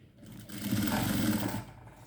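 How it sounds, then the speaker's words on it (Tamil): A sewing machine stitches a silk saree border in a short, steady whirring burst that builds up, holds for about a second and then stops, close and clear with no talking. "திருப்பிட்டு மேலே ஒரு படிமான தையல்"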